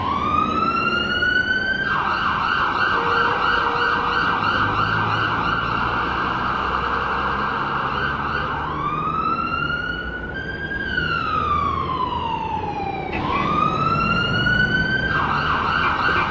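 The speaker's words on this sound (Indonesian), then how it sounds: "Ayo, ada ambulan, kasih lewat dulu." Ambulance siren wailing loudly and continuously as it passes through road traffic, its pitch sweeping up and down in long cycles, close and steady the whole time with no speech over it.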